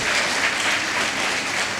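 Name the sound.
audience applause in a hall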